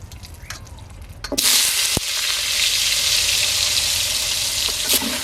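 Potatoes hit lightly salted hot oil in a wok, a quiet start bursting into a loud, sustained sizzle with a sharp clack of a utensil and steady frying hiss after.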